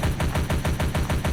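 Rapid automatic gunfire in the video game Werewolf Hills during a fight against a werewolf boss: a fast, evenly spaced string of shots, loud and continuous for the whole burst.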